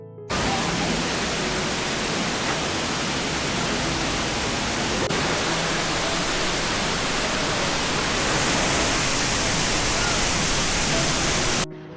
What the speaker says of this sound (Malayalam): അടവിക്കടുത്തുള്ള ഒരു കുഞ്ഞു വെള്ളച്ചാട്ടമാണ് മണ്ണീറ വെള്ളച്ചാട്ടം